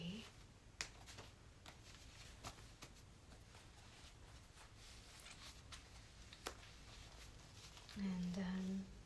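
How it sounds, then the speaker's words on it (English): A deck of tarot cards is cut and handled with soft, scattered taps and sharp little snaps of card edges, faint and close, with a brief voiced tone near the end. "time to cut the deck"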